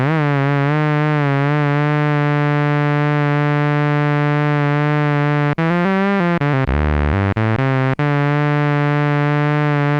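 IK Multimedia Uno synthesizer holding a steady tone whose pitch wobbles under LFO modulation, then briefly warps and drops in a few sharp swoops near the end before settling back; loud and continuous with no talking.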